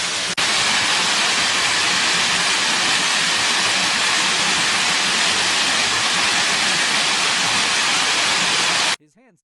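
Roaring forest creek beneath an emerald canopy, a loud, steady rushing wash of water that holds constant for most of the stretch before cutting off abruptly near the end.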